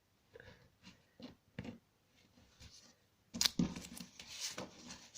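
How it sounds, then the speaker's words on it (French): Scissors snip through excess sticky tape while a card album is assembled, a few short close crisp cuts after quieter handling rustles. "couper le trop-plein de scotch"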